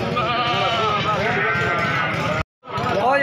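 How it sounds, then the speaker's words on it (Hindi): At a goat livestock market, bleating cries rise and wobble over a busy crowd with people talking, broken by a sudden brief silence before the noisy market and calls resume. "ये बकरा है ये क्या रेट मांग रही है?"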